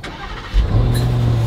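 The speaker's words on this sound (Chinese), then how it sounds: "我先发车好了" A Range Rover SV V8 engine cranks and fires at about half a second, then settles into a loud, steady, close idle rumble through the rest of the clip.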